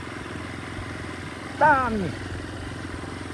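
Motorcycle engine idling steadily close by, with a brief burst of speech over it midway.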